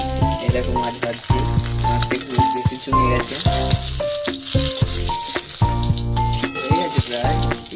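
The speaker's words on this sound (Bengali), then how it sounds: "এই দেখো মাছ ভাজছি।" Fish frying in a home kitchen pan, a steady sizzle running throughout beneath prominent tonal music, with no clear talk.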